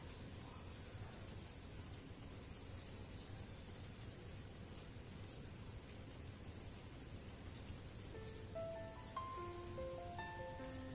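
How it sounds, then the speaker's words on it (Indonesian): Steady rain falls on the porch of a house, a dense, even hiss that never lets up, and near the end a few soft melodic tones rise faintly over it. "Kebetulan hujan turun, jadi cuacanya dingin"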